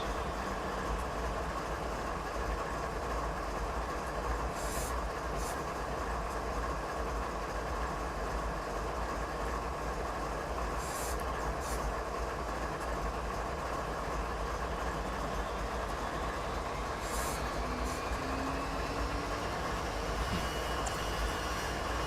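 A simulated westbound CP Rail train rumbles steadily along the rails on a winter night, a continuous loud roar with occasional squeals and clanks, no voices.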